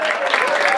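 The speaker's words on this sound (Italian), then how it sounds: "Lo facciamo l'applauso a Paviva." Applause from an audience gathered in an outdoor town piazza at an evening song festival, a steady dense wash of clapping throughout the short moment with crowd noise mixed in.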